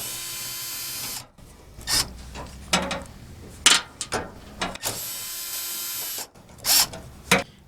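A power tool ratchets out the 8mm bolts holding the backup camera on a 2010 Toyota Tundra tailgate, with a steady whirring run followed by several short, loud, close buzzing and ratcheting bursts, no talking.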